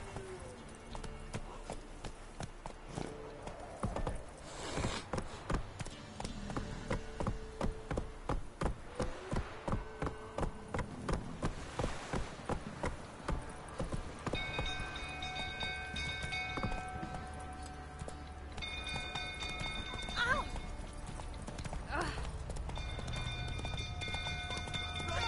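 Steady galloping hoofbeats from a horse in The Witcher 3 video game, a long rhythmic run of loud clip-clops that eases off partway through as background music swells.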